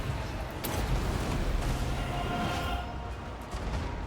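Flame cannons fire during a siege battle in Total War: Warhammer II, producing a loud, unbroken wash of rumbling artillery and battle din with no pauses.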